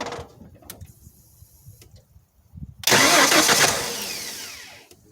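A 1994 Ford F250 with the 4.9L engine cranks and catches, then runs at a loud, steady idle up close, preceded by a few quiet clicks and rustles; the truck has a serpentine belt that keeps flying off.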